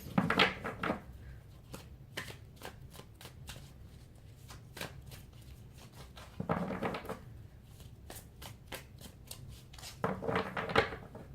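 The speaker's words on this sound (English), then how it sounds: "let me give a few more shuffles" Tarot cards being riffled and shuffled close by, with bursts of rapid flutter and repeated soft snaps, no talking.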